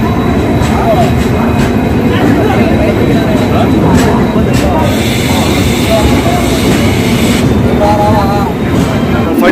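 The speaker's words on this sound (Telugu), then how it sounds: "ట్రైన్ రేణిగుంట నుండి బయలుదేరింది ఫ్రెండ్స్ ప్లాట్ఫారం 1 నుండి" The Tirumala Express pulls out of Renigunta station from platform 1 and runs with a loud, continuous roar and rumble heard from on board.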